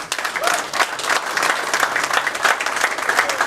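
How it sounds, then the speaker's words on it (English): A room full of people clapping steadily, dense and even applause without a break for a few seconds. "Let's give them a round of applause."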